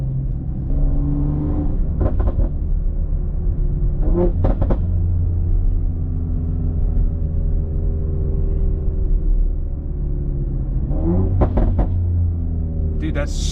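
A 600HP BMW X3M drives through a quiet residential area, its loud exhaust rumbling steadily with repeated sharp crackling burble bursts on and off the throttle, close and continuous, with voices talking over it.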